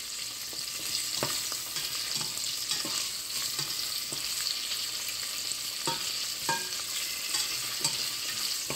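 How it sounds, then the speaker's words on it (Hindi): Green chillies, ginger and garlic sautéing in a pan for palak paneer, giving a steady close hiss and sizzle with occasional stirring clicks and scrapes throughout, no voices over it. "हरी मिर्चें 2 से 3, एक छोटा अदरक का पीस था, लहसुन 4 से 5 जोए थे। इनको डाल के सौटे करना है"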